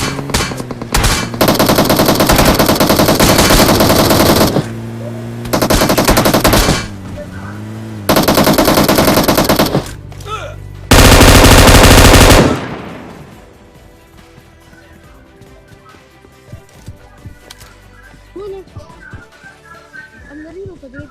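Video game automatic gunfire comes in several loud, close bursts of rapid shots separated by brief pauses, then gives way to quieter game ambience with a voice talking.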